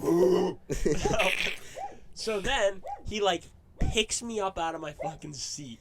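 A voice imitates a dog barking and yipping in short bursts, mixed into lively close talk from the same speaker.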